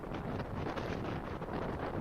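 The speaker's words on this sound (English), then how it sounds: "It can get pretty windy in Ireland sometimes." Strong wind in Ireland buffeting a microphone, a steady broadband rush and rumble throughout with no let-up and no speech.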